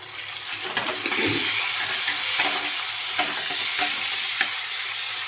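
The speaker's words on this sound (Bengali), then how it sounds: "আর মশলার মধ্যে দেবো এই যে হলুদ গুঁড়ো জিরে ধনে গুঁড়ো আর লঙ্কার গুঁড়ো লবণ আর অল্প একটু চিনি ঠিক আছে চলো এখন আস্তে আস্তে আমরা এটা বানাই টমেটোটা দিয়ে দিলাম" Tomato dropped into a pan of frying spices (turmeric, cumin, coriander, chilli powder, salt and a little sugar) sizzles steadily, with a few spoon scrapes and taps against the pan, close up and without talk.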